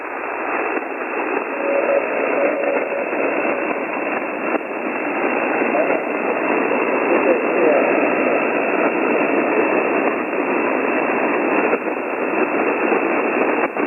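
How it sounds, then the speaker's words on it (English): Ham radio receiver static on HF, heard through an Icom transceiver: a steady, loud hiss of band noise filling the whole passage, with a faint signal barely poking through the noise floor. "You dove back into my noise floor. I got a lot of noise."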